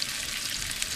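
Onion frying in a pan over a wood-fired stove, a dense, steady sizzle close up, alone.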